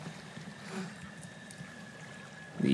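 Running water in the horror game Outlast 2, a faint continuous trickling flow under a steady low ambient hum, with a soft thump at the end.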